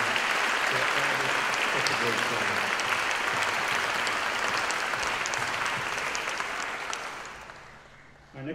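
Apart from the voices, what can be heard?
audience applause for orchestra groups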